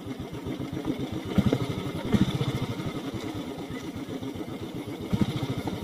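A motorcycle engine labouring on a rough off-road climb near the Chooral waterfall in Kerala, with a steady throbbing low rumble throughout and brief louder revs, close to the microphone.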